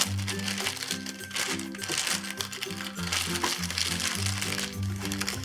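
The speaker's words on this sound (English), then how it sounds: "we'll put it back into the bag so it doesn't dry out" Egg roll wrappers being slipped back into a plastic bag, with continuous crinkling and rustling of thin plastic up close, over steady music in the background.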